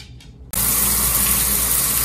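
Shower water switches on abruptly after a brief quieter moment and then runs steadily as a loud, close, hissing spray.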